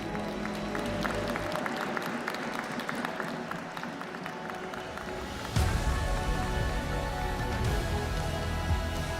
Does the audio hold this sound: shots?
no